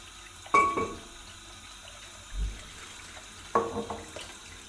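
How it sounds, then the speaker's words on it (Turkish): Bones for tripe soup are rinsed under a running kitchen tap, with two short bursts of splashing water and a soft thud between them, close and moderately quiet. "Şunu kemikleri yıkayayım."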